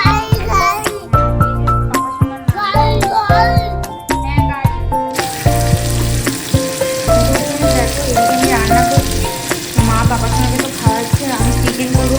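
Okra chachchari cooking in a home kitchen, frying and sizzling loudly and steadily throughout while stirring clatter and voices, including a child's, break in over it, with one abrupt change partway.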